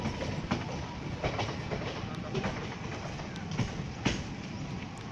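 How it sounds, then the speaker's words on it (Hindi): Train running on a newly doubled railway track near Karimuddinpur, a steady rumbling roll with rhythmic clickety-clack wheel beats over the rails, heard close from on board. "हमारी ट्रेन जा रही है प्लेटफॉर्म नंबर 1 पर"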